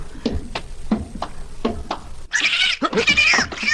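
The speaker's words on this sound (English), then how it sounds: "It's a cat! A cat!" A cat meows and then breaks into loud, harsh caterwauling as a radio drama sound effect, with several short meows at a steady pace before the screeching, close and prominent.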